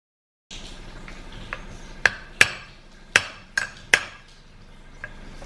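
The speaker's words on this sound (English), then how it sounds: "Dowel pin is in. Let's knock it down just a little bit past the surface." A hammer taps a dowel pin into a 4L80e transmission case with about seven sharp metallic knocks at irregular intervals, the middle strikes loudest, close and clear with no talk.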